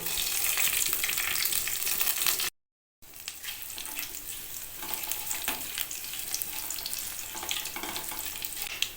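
Panch phoron, dried chillies and bay leaf hitting hot mustard oil, a loud close steady sizzle with bright crackle and stirring, broken by a brief moment of silence before the frying continues.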